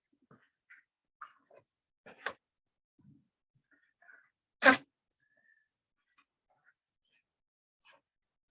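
In a quiet T'ai Chi class, a single sharp sneeze bursts out loudly amid faint scattered small sounds.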